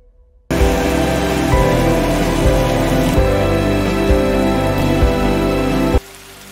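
Heavy rain pours down as a loud, dense, steady hiss of drops that starts abruptly and runs unbroken for several seconds before cutting off.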